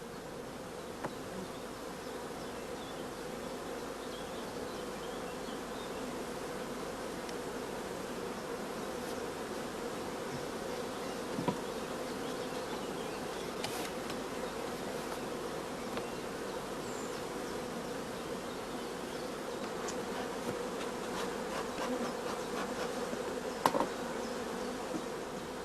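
Honeybees buzz steadily across a brood comb during queen rearing, a dense, continuous hum that stays close and even throughout, with a few brief louder passes of single bees and no talk.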